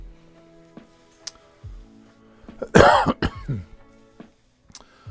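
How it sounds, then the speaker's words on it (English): A single throat clearing, rough and close, set among quiet clicks and small handling noises. "after I clear my throat"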